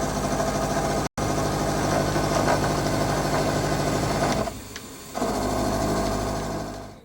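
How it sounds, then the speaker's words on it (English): Milling machine cutting a bespoke hinge part to length: a steady, loud, whirring machine drone with a brief dropout, then a quieter stretch before the full cutting noise returns. "So I've just finished machining the last one to length"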